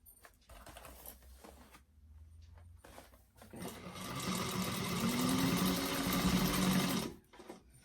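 A sewing machine stitches over a bag seam with a 1/4 inch seam allowance. Faint mechanical clicks come first, then a loud, sustained whirring run of several seconds that stops abruptly.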